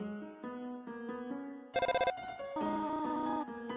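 A cell phone rings in the video game Undertale: a short burst of rapid, buzzy electronic ring pulses cuts in over gentle chiptune music and stands out loud and clear, with the melody carrying on afterward.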